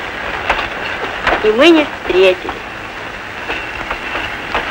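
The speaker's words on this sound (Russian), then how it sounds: "Поезд." Train rattling along with a steady rumble and faint rhythmic clatter, heard from inside a carriage in an old Soviet comedy film, while people briefly talk over it.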